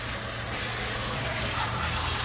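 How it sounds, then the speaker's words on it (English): Water gushes steadily over freshly spider-dyed fabric to rinse away excess dye, a close, continuous splashing rush with no break. "all I'm doing is rinsing the excess dye off"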